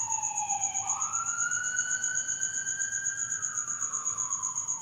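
A loud wailing siren rises and falls steadily, with a high constant electronic whine over it and no voices.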